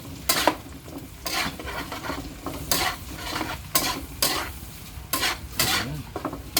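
Meat and garlic frying in a pan while being stirred, with repeated scraping strokes of a utensil against the pan every second or so over a continuous close sizzle.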